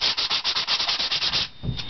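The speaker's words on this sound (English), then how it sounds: "gave it a light sanding" Tim Holtz hand sander lightly sanding painted fabric glued on a wooden pumpkin, a quick rhythmic rasp of back-and-forth strokes up close, ending with a soft bump.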